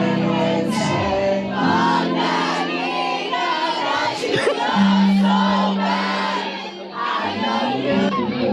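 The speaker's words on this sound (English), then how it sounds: "I heard the crowd" A large crowd at a concert roars and shouts in a played recording, a dense sustained wall of cheering and yelling with a loud tonal note rising through the middle.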